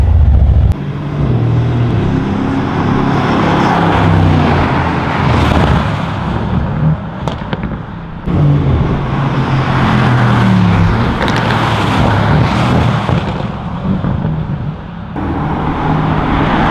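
Mercedes-Benz AMG C 63 S driving in comfort mode, a steady loud engine and road drone from inside the car with tyre and wind noise, continuous throughout with brief dips, no talking.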